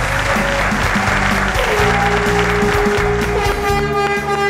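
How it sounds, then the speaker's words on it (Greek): A Greek television game-show studio audience applauds steadily over loud, rhythmic theme music with a pulsing beat and bright synth tones, the clapping blending into the music at a constant volume. "με το πιο δυνατό σας χειροκρότημα, πάμε να υποδεχτούμε μαζί τον Αλέξανδρο."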